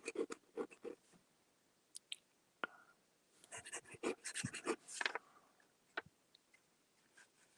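A fountain pen's slightly coarse nib scratches across paper at a desk in quick irregular strokes, close and faint, thickening into a denser flurry of scratches midway before thinning out.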